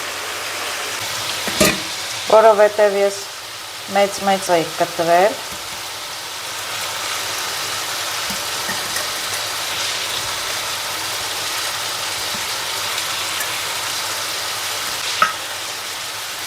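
Zucchini pieces fry in a pan with a steady, close, hissing sizzle that runs throughout, while someone speaks briefly near the start.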